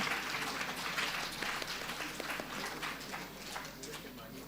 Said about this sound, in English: A big applause for Mahi.